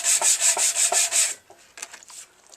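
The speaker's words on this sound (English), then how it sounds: "So a bit of block sanding." Block sanding across paint on a Harley-Davidson 883 Iron belly pan: six or seven quick, even rasping strokes up close, then the rubbing stops and a few faint scrapes and handling clicks follow.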